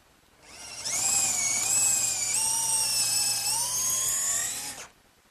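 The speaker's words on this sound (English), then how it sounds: "I'm just going to use a larger bit in the drill" A power drill with a larger bit whirs at high speed for about four seconds enlarging a pilot hole, its pitch wavering slightly as it bites, then spins down and stops.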